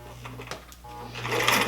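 A sewing machine stitches the center front line of a skirt, its motor humming steadily and rising louder toward the end of the short run, with no talking.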